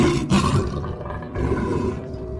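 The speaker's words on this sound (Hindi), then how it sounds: "शेर की दहाड़ सुनकर डर जाती है।" A lion in a Panchatantra folk tale lets out a loud, sustained roar that holds steady for about two seconds with no speech over it.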